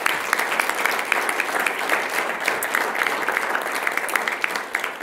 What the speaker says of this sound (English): Elise, can you stand so we can give you a big round of applause?